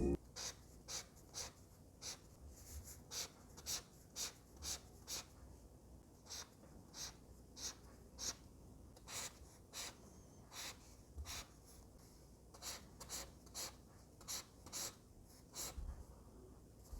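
An Ohuhu Plus marker's chisel tip strokes across paper in quick, regular scratchy marks, soft and close, repeating steadily with no one speaking.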